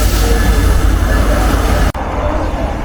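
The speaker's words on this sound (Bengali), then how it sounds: "নীলসাগর ডিপার্চার নিচ্ছে ইব্রাহিমাবাদ থেকে" Nilsagar Express pulling out of Ibrahimabad railway junction, a loud, steady rumble of rolling train noise that briefly cuts out partway before resuming.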